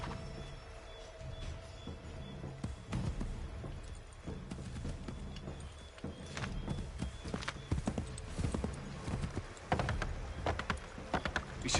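Horse hooves clip-clop steadily in the Assassin's Creed 3 video game, mixed under a dense, continuous game soundscape with rustling ambience throughout.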